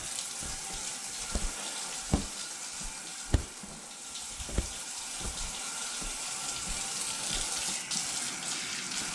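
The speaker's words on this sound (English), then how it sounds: "Some water going." Warm water runs steadily from a tap into a sink, a continuous close splashing hiss broken by a few sharp knocks and clinks, with no talking.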